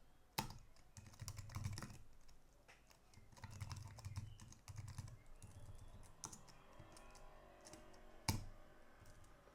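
Someone types code on a computer keyboard, a close, quiet patter of key presses in uneven bursts with a few sharper clacks, alone without speech.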